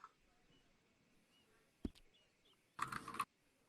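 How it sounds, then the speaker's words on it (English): Loud clicky keyboard typing bursts briefly, preceded by a single sharp tap, over a quiet room background. "Whose keyboard is so loud?"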